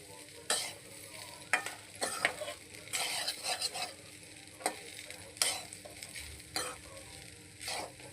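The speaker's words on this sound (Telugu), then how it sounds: "ఇప్పుడు కూడా రైస్ ఏదైనా మిక్స్ చేసేటప్పుడు పొడి పొడిగా ఉండాలండి." Cooked rice for paneer egg rice is tossed and stirred in a hot pan, giving irregular scraping spatula strokes over a soft, steady sizzle, fairly quiet and close with no talking.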